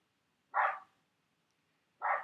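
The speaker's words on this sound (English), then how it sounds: "The dog is barking incessantly, and it's just driving me insane." A neighbour's dog barks twice from a distance, single sharp barks spaced about a second and a half apart, with silence between them.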